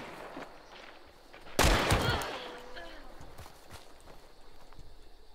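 A single loud gunshot blast rings out in the video game Hunt Showdown and decays into a lingering echo, followed by scattered faint thuds, while players talk over it.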